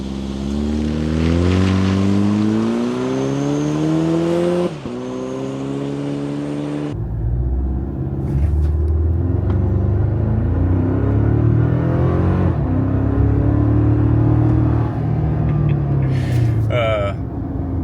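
A 2024 Toyota Tacoma pickup with a four-cylinder engine and MagnaFlow exhaust accelerates, its loud, close engine drone climbing in pitch through several gear changes with brief dips between pulls.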